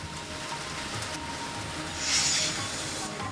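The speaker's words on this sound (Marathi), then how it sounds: "पुणे जिल्ह्यातल्या अनेक गावात आज अवकाळी पावसानं हजेरी लावली आहे" Unseasonal rain driven by strong wind in a Pune district village, a steady broad hiss of rainfall with a brief louder gust-like swell, no voices.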